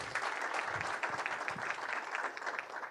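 A round of applause from the audience at a 1 Million Cups Frisco startup presentation, a fairly faint but steady wash of many hands clapping, heard alone.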